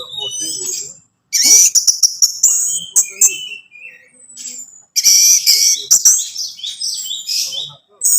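An orange-headed thrush sings in bright, varied whistled phrases and chirps, loud and close, in two long bursts separated by a quieter gap with softer calls.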